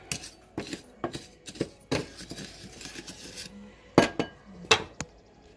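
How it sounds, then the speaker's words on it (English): Seasonings being stirred together in a bowl, a run of scraping, clinking strokes in irregular bursts with two louder knocks near the end, close and alone with no talk. "And then I'm just going to stir it up. Kind of mix the"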